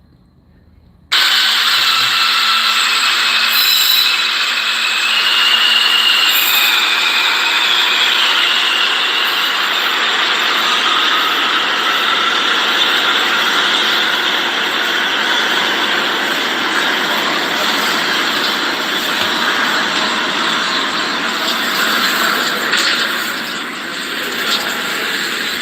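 A New York subway train roars steadily through a station, a loud continuous metallic rumble and screech with rattling mechanisms, fading slightly near the end.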